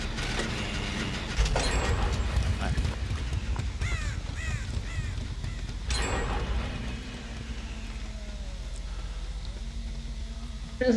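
Crows cawing in the horror game Dead by Daylight, several harsh caws in a cluster near the middle over a rumbling ambient background, with brief clunks and no speech.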